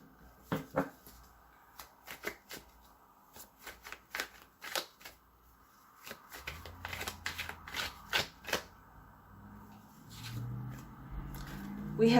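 Playing cards being gathered up and shuffled back into a tarot deck, giving a run of crisp riffling and tapping bursts at close range. The bursts come in uneven clusters, and a low rumble of handling noise builds near the end.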